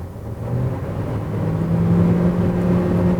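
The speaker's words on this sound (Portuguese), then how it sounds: "Você percebe um pouco o barulho do motor invadindo aqui o habitáculo." A steady engine drone heard from inside a 2021 Ford Territory Titanium 1.5 turbo, rising slightly in pitch and loudness under hard acceleration, with road noise underneath.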